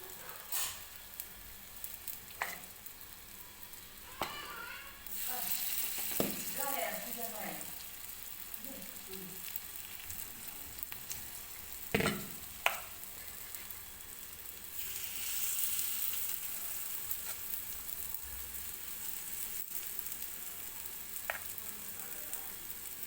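Rava appe batter sizzling as it is spooned into an appe pan, a quiet steady fry crackle with clinks and taps of a spoon against the pan, while someone talks throughout.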